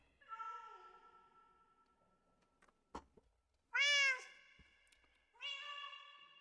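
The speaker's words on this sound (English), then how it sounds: "these cats. They're so loud." Cats in Minecraft meow loudly in separate calls spaced apart, one especially strong and drawn out in the middle, with faint clicks between.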